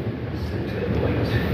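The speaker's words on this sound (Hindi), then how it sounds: "अब हम पहुँच गए हैं मेट्रो स्टेशन" A Dubai metro station with a train: a steady, moderately loud rail rumble and hum fills the space, with indistinct voices faintly underneath.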